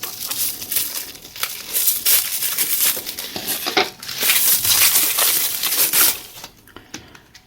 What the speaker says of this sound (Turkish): Makasımızla şöyle bir açalım.